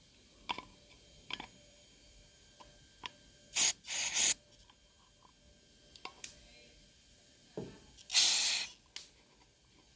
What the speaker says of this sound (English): I'm going to just go ahead and spray through this.